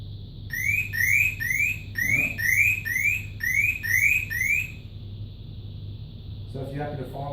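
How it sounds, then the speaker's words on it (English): A paired alarm unit sounds a test alarm: a rapid string of rising electronic chirps repeating in bursts for about four seconds over a low hum, then stopping as a voice briefly speaks. "you can run a test from it, from any unit you want, and it will alarm"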